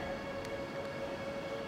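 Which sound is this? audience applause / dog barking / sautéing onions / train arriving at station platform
train arriving at station platform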